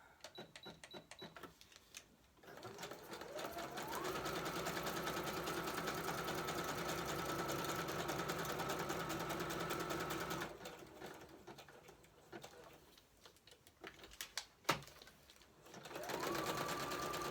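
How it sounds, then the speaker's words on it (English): A sewing machine running a zigzag stitch in long steady runs, whirring up to speed, pausing briefly, then starting again near the end. "He doesn't like the sewing machine."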